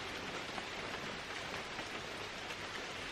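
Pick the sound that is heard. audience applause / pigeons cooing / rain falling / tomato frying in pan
rain falling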